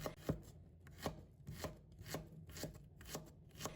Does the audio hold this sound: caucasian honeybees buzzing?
no